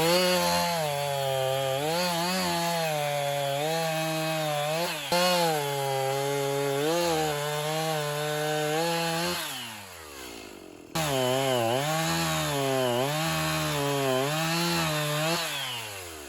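A chainsaw cuts through wood with its bar pulled through using the dogs, the engine snarling steadily under load with pitch wavering, briefly easing off near the ten-second mark before revving back into the cut, loud and close.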